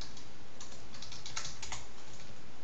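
Rapid typing of code on a computer keyboard, a steady clatter of close keystrokes with a few louder taps, no talking.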